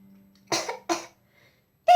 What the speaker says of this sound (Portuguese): você tá com tosse